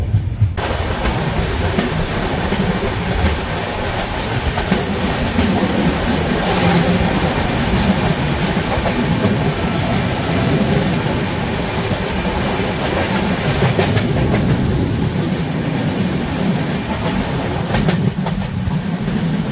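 The 12827 Purulia Super Fast Express runs at speed on the line from Howrah toward Purulia, with a loud, constant rumble of wheels and rail clatter heard from on board, steady from start to finish.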